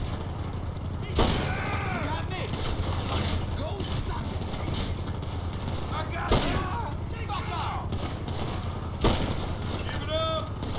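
Bursts of rapid automatic submachine gun fire in GTA V Online crackle through the clip, with sharp loud shots punctuating the chatter of a talking player.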